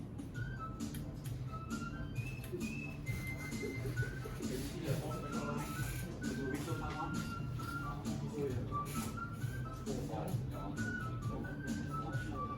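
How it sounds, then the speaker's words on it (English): Pure-toned whistle notes sound in short, repeated phrases through steady background noise, played as a classroom example of tones adding together. "With the whistle, alright, few pure tones add together."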